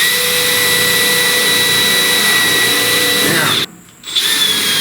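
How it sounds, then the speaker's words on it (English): A power drill boring 1/8 inch holes into the rear panel of a 1969 Chevrolet C10 pickup: a loud steady whine runs for several seconds, cuts out briefly as the bit breaks through, then spins up again. "I'm going to drill a series of holes here."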